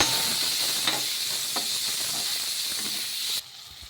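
Ginger garlic paste sizzles in a hot pan, a steady bright hiss with a few soft stirring scrapes, cutting off abruptly near the end.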